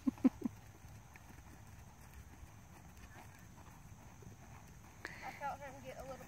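Horse hooves during a riding lesson at the trot: a few sharp, close hoofbeats at the start, then quiet ambience before softer, distant-sounding hoof clatter returns near the end.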